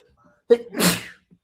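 A single sharp sneeze, close and sudden, with a quick breathy intake before the explosive burst in an otherwise quiet room.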